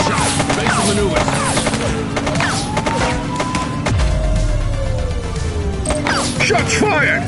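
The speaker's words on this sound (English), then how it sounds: "Shots fired!" Repeated gunfire from a police shooting in the video game The Precinct: a fast burst of sharp shots, loud and close, mixed with sirens and other game sounds throughout.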